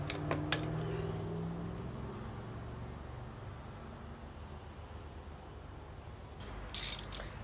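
A ratchet loosening a glow plug on a Mercedes 240D diesel engine, giving a few faint close clicks over a steady low background hum, with a brief metallic clink near the end.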